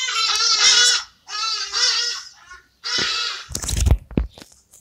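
Geese honk loudly and close in three long harsh bursts, followed by a short clattering scuffle.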